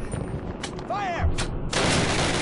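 Gunfire in the Call of Duty video game: sharp shots and bursts over a continuous battle din, loud and close, with a whistling sweep in the middle.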